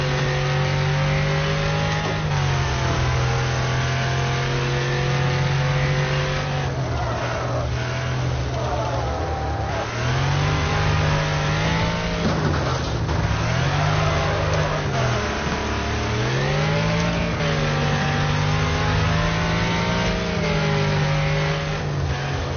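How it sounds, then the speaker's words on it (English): A race car engine in the Wreckfest video game revs hard, rising and falling through repeated downshifts and throttle bursts, loud and close, with occasional tire skids and no talking. "you just gotta be careful when you downshift and get back in the throttle"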